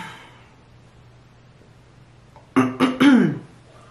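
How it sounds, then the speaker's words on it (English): Two or three sharp, loud coughs in quick succession near the end, after several seconds of quiet room tone. "I'm about to cough again."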